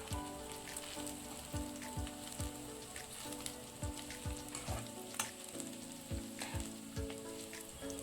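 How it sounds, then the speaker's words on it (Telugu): Fried cauliflower for gobi 65 is tossed and stirred in a hot pan, with a continuous crackling sizzle broken by a regular series of scraping, clattering strokes over soft background music. "ఇప్పుడు మనం ముందుగా ప్రిపేర్ చేసి పెట్టుకున్న గోబీని ఇందులో వేసి మిక్స్ చేసుకోవాలి."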